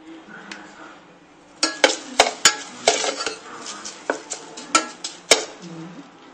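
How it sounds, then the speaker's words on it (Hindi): Rice is stirred in a pan on a gas stove at medium flame, with a series of irregular metallic scrapes and clinks of a spoon against the pan, close and clear after a quiet start. "इसको हिलाते रहना अच्छे से ताकि जो हमारे चावल है वो नीचे लग जाए।"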